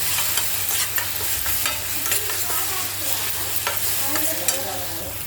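Apple halwa mixed with cinnamon powder in a pan, a continuous scraping stir with light sizzling and repeated soft clicks of the spoon, close and moderately loud.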